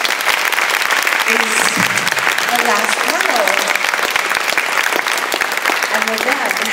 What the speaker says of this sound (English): I'm kind of going to ask you to give a big round of applause